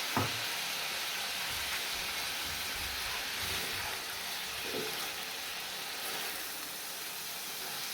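Peeled tomatoes cooking in a pan give off a steady, even sizzle and hiss, with a few faint pops and clicks over the constant frying noise.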